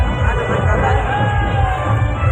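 A large, dense crowd packs the lanes to see the band, a loud, continuous roar of babble and street noise at close range, with voices mixed in throughout.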